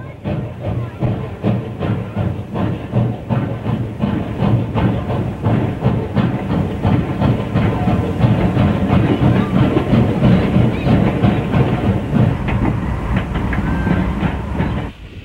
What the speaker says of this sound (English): Another one of the beautiful 4A2 mountain types heads northbound with a passenger run.